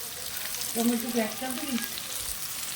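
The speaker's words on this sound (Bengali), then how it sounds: "এই আলু ভাজার মধ্যে আমি এরকম কুচনো পেঁয়াজ এটা আমি ঢেলে দিচ্ছি" Chopped onion poured into frying potatoes in a pan gives a soft, steady sizzle with a brief gentle burble, fairly quiet and close.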